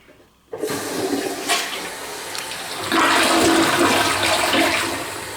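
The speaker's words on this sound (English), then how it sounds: "So if you can flush it just a little, or you can flush it a lot" A dual-flush toilet, freshly installed, flushes with a sudden loud rush of water that swells midway into a stronger gushing surge and keeps running steadily to the end, with no talking.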